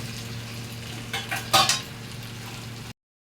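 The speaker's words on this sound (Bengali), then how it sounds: "নাড়াচাড়া করে নেব" Fish head curry being stirred in a pan, a low sizzle with a short burst of spoon scraping and clinking against the metal near the middle, then cutting off abruptly.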